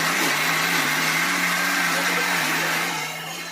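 A blender grinding fruit into a fine paste for jam runs steadily with a loud, continuous motor whine, close by, dropping slightly in level near the end.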